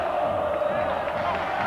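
Rugby league crowd at a Bradford Bulls versus Hull FC match roaring after a tackle, a broad sustained mass of cheering and shouting voices, loud and continuous.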